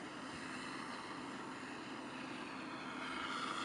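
Steady drone of an RC Texan II model airplane in flight, a continuous buzzing motor tone holding fairly even at moderate distance with no voices.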